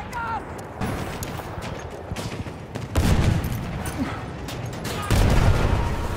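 Battlefield 1 gunfire crackles in repeated bursts and heavy booms, with several louder volleys near and far over a steady battle din, while an excited voice talks over the action.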